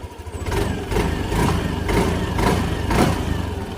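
A Yamaha scooter engine idles after throttle body cleaning and ISC calibration, a loud, close, low puttering hum with a gentle pulsing rhythm, holding steady throughout.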